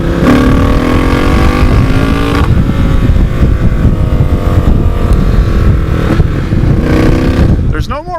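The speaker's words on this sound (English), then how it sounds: "I'm going to try some engine braking." A Triumph Bonneville T120 motorcycle engine-braking, its pitch sweeping lower in repeated stretches, loud and near, ending with a brief rising whine.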